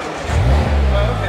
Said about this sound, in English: So if we were to turn the car on